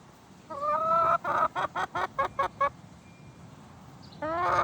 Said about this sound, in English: we're, of course, going to go to the chicken and see what the bird has to say on the issue